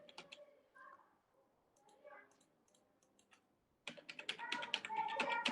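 Typing on a computer keyboard while entering a contact number into a mail merge in MS Word 2013: quiet scattered key clicks at first, then a denser, louder burst of rapid keystrokes near the end.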